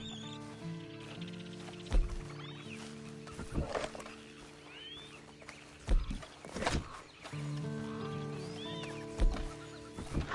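A horse in Red Dead Redemption 2 gives several loud whinnies and snorts over quiet clip-clopping hooves and a low game ambience, with bursts spaced a few seconds apart.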